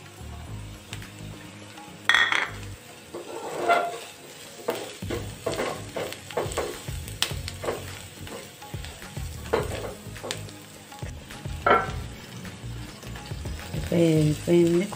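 Onions frying with spices in a pan, a low sizzle broken by repeated scraping strokes and clinks of a spoon against metal, close and uneven in rhythm.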